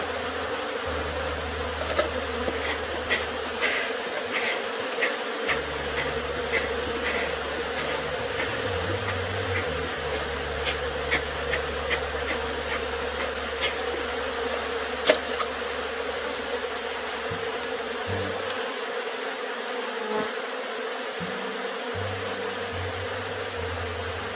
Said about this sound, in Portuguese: Tem cuidado para não matar a abelha.